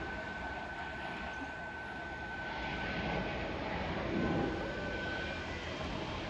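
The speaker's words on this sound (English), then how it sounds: "Oh, there's a plane going over there." An airplane passes overhead near an airport, heard as a broad, distant engine roar that swells gently and peaks toward the end, steady throughout with no talk.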